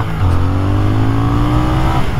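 A 2021 Triumph Speed Twin 1200 motorcycle engine holds around 4000 rpm, a loud, close, steady drone with a slight rising pitch, continuous throughout with no talk.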